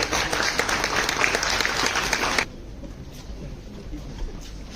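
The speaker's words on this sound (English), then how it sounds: "Can we have a huge round of applause, everyone?" Audience applause at an engineering college E-Summit event in Punjab, dense and steady for a couple of seconds before cutting off abruptly, leaving a quieter room tone with faint scattered claps.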